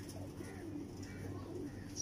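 Soft, low cooing of a Teddy pigeon repeats faintly in a quiet space, a gentle murmuring call close by.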